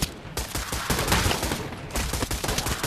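Gunfire from an AK-12 rifle in the virtual-reality shooter Pavlov, a dense run of loud, close automatic bursts with short gaps between strings of shots and no voices.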